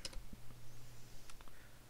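A few quick key presses on a computer keyboard, soft close clicks spaced unevenly over two seconds against a faint low hum, no speech.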